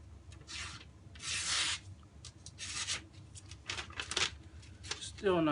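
A Kershaw Emerson CQC-4K folding knife slicing through paper in a cutting test, several close, rasping bursts of blade rubbing and tearing paper, separated by short pauses.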